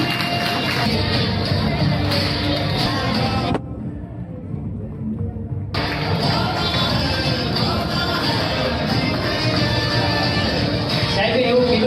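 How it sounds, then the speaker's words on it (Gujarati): A large audience at a community student honour ceremony in Junagadh breaks into loud, sustained applause and crowd noise. The dense roar fills the room, briefly dips, then resumes at full strength and keeps going. "જોરદાર તાળીઓથી"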